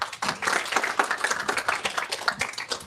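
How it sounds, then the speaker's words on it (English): Audience applause closing a tech talk on Kotlin Multiplatform Mobile, a dense, steady patter of many hands clapping close by for about three seconds, with no talk over it. "Big round of applause for Sam."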